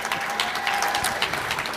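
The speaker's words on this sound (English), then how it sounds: "Let's give them a round of applause." Audience applause at a pitch competition fills the whole stretch, a dense, steady wash of many hands clapping at close range, with no voices over it.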